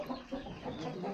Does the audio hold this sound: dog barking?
no